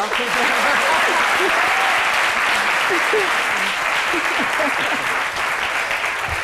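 Loud, steady audience applause at a tribute event for a teacher, dense clapping sustained across the whole stretch, with voices faintly mixed in beneath.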